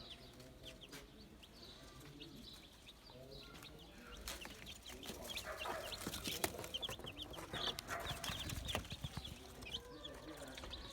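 Chicks peep in a brooder built from an old refrigerator, many small chirps running continuously at low level, with other fowl clucking in the background and some clattering in the middle.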